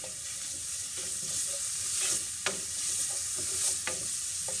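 Bacon cut into small pieces frying in a pan, a steady soft sizzle with occasional sharper pops and stirring clicks, moderately quiet and without voices.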